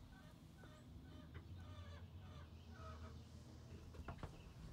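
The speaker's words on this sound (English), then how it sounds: "I have backyard chickens, and one of them has decided to become kind of loud now." A backyard chicken clucking, a series of short, sharp repeated clucks and squawks heard faintly from some distance over a steady low background hum.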